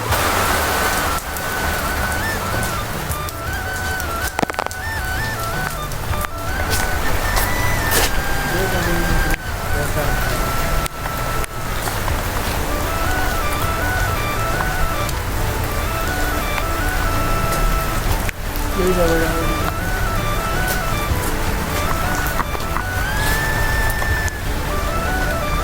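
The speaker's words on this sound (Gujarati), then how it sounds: "તો મિત્રો વરસાદ ચાલુ છે તો તમને બતાવું છું" Steady monsoon rain pours over a village, a dense constant hiss with occasional faint rumbles, while a voice talks intermittently above it.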